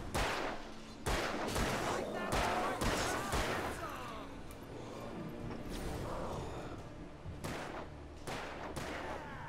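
Repeated gunshots in Alan Wake ring out as loud, sharp, irregular blasts across the moment, with echoing tails and some overlapping voices.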